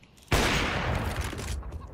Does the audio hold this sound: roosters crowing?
no